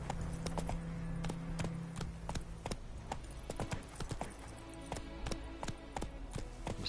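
Roach, Geralt's horse in The Witcher 3 on PS5, gallops with rapid, rhythmic hoofbeats thudding close and loud, a low steady game ambience beneath.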